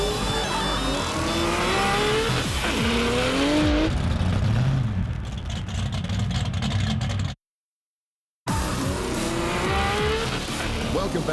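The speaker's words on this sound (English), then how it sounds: "super slick RX2 that looks as good on show as it does spinning in circles" A Mazda RX2 drift car spins in circles at a show event, its engine revving loudly while tires squeal and skid continuously, with a brief silent gap before the squeal and roar resume.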